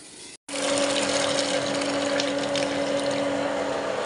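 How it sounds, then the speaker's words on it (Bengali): An electric pump lifts water into a household storage tank at night, giving a steady, close motor hum with two sustained tones over a rushing flow of water, continuous after a brief dropout at the start. "এখন ট্যাঙ্কিতে জল উঠছে"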